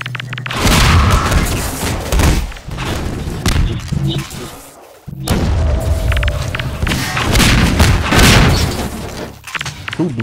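An explosion in Half-Life 2 Deathmatch erupts as loud, heavy booms amid a busy firefight, with dense blasts and gunfire filling the scene, a brief lull, then another surge of rumbling detonations.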